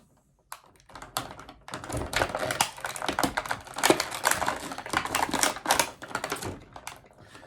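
A knife saws and scrapes through stiff plastic packaging around a horror figure, giving a steady run of crisp, crackling cuts and taps, close and fairly loud, with no talking.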